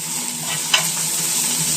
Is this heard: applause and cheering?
no